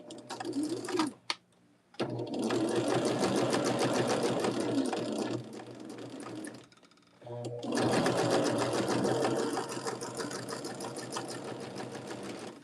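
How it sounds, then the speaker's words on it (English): A sewing machine runs steadily while back stitching a quilt block, loud and close, with two long runs broken by short pauses and a brief stop partway through. "I'm going to do a little bit of a back stitch."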